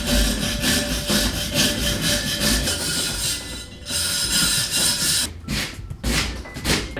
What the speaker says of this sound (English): Now I'm just gonna get a wire brush and